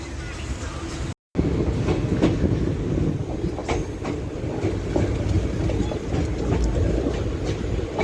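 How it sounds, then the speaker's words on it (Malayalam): The Leelan Express runs at speed on rails in Rajasthan, heard from inside the coach as a steady loud rumble with clickety-clack wheel beats and brief squeals, a short dropout near the start, and faint voices. "ഇപ്പോഴും ഒരു തരത്തിലുള്ള ഡിലേ ഇല്ലാതാണ് ട്രെയിൻ പോകുന്നത്"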